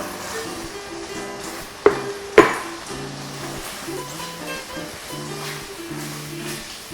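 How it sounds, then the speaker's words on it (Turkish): Beef and thickened broth stirred together in a pan for beef stroganoff, a soft bubbling simmer broken by two sharp utensil clinks against the pan, with a music bed running underneath. "Birlikte karıştırıyorum."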